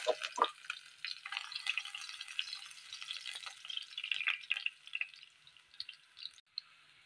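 Soft, steady sizzling of onions frying in a pan for ginger fried rice, with small crackles and pops, then a brief pause before the sizzle resumes.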